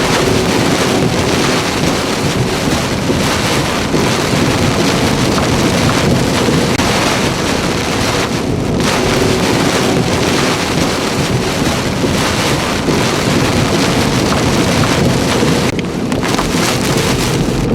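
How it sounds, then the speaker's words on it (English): Heavy rain pounds steadily during a tornado storm chase in Calera, Alabama, a dense, loud roar of downpour on surfaces with no talking, holding constant for nearly eighteen seconds. "got rain going this way and rain going that way."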